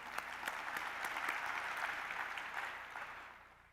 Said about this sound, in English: so we can clap for him